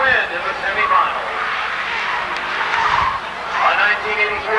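Race cars at Seekonk Speedway, among them a Malibu on the back straight, during weekly racing: continuous engine roar with rising and falling passes, fairly loud throughout, with no voices heard.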